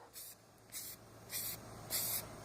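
Aerosol spray paint in brown and gray hisses onto ground-up plastic rings in four short, evenly spaced bursts, each about a third of a second long, close by and fairly quiet.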